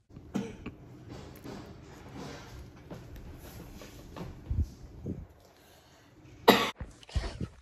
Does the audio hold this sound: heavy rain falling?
no